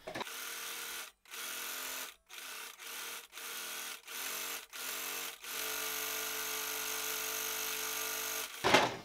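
A sewing machine stitches a line on jersey fabric, its steady mechanical whir running in several short bursts with brief pauses, then one longer continuous run, close and moderately loud.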